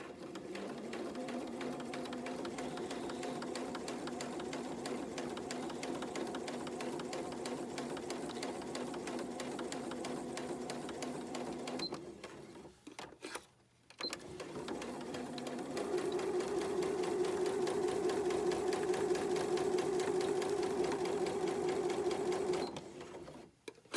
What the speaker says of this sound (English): So we're going to sew to the pin, stop, take the pin out, sew to the next pin.